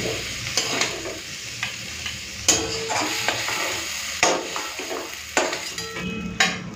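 Fried radish with prawns being stirred and scooped in a pan, with soft frying sizzle under repeated sharp scrapes and clinks of a spatula at an uneven rhythm, close and moderately quiet, no talk.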